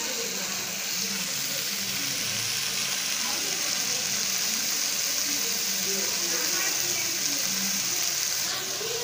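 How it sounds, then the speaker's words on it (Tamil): Crab pieces fry in hot oil for a Tamil-style crab fry, giving a steady, dense sizzling hiss that holds without pause at a close, even level throughout. "நண்டுலேருந்து நல்லா எண்ணெய் பிழிஞ்சு வந்து பாருங்கள்"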